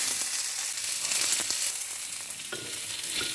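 White onion sautés in a pan for beefsteak, a continuous bright sizzle and crackle with occasional soft scrapes and stirs, steady and close, without talk.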